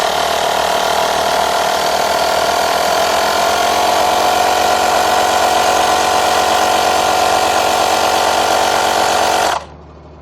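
A small electric car tyre inflator pump runs with a loud, steady mechanical whine and buzz, then cuts off abruptly near the end.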